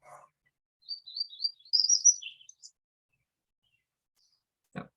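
A warbler song closely resembling a yellow warbler plays as a recording: a quick series of clear, high sweet notes rising to a brighter burst, alone in near silence, followed by a short low knock.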